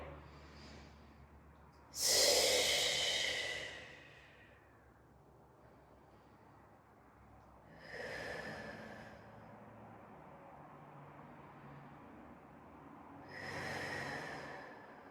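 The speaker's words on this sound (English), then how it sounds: "let's take 3 deep breaths here" Three deep breaths taken during a beginner Pilates stretch, each a long, breathy inhale-and-exhale rush spaced several seconds apart, the first loudest and the later ones softer, close and unaccompanied by talk.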